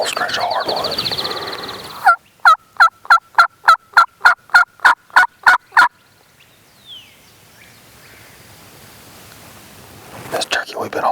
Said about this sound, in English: Sounded like he gobbled way down in the bottom.